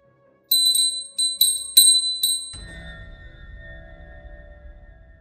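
A small bell jingles in several quick shakes, bright and close, then a low rumbling hum follows.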